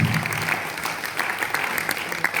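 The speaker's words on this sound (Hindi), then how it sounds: "तालियां बजा दो भैया जोरदार" Audience applauding loudly for an actor at a live Hindi-language event, dense sustained clapping close and steady for a few seconds with a faint voice underneath.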